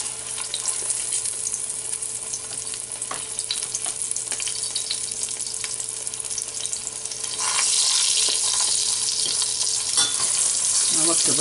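Eggplant slices for Naples-style eggplant parmesan frying until golden brown in a pan, a continuous loud sizzle that swells brighter and hissier toward the end, with occasional scraping stirs.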